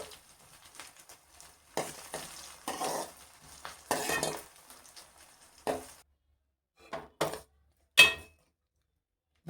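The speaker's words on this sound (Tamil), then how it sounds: "நல்லா வெந்துக்கிட்டு இருக்கு எண்ணெயில்." Onions frying in oil for a Nellai-style fish curry, with intermittent loud bursts of sizzling and stirring scrapes of a utensil against the pan, separated by quieter simmering gaps.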